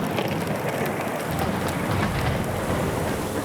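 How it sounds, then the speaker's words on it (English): Heavy rain pours steadily during a coastal storm, with a dense constant roar and low rumbling thunder beneath it; loud, close and unbroken, with no voices. "The storm is getting worse."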